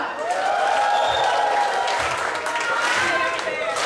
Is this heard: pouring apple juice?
no